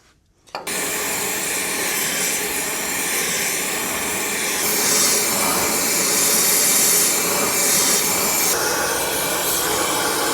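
A torch roars in a steady, loud hiss as it heats a part on a Steiger Tiger tractor, starting abruptly after a brief silence and holding close and constant.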